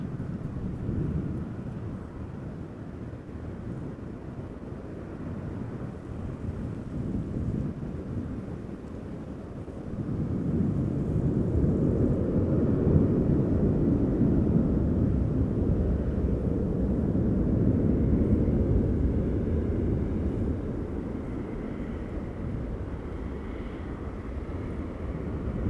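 An airliner on approach to Amsterdam Schiphol Airport gives a distant low roar that swells midway, holds for several seconds and then eases, with steady wind noise throughout.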